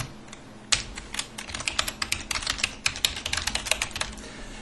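Rapid typing on a computer keyboard, steady irregular clicks and clacks close up, with no voices.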